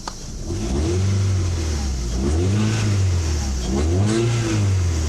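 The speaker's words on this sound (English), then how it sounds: "Give it a quick little rev check here" A 2000 Toyota Altezza RS200 Z-Edition engine revs three times in quick succession, each blip rising and falling in pitch over a steady idle, close and loud.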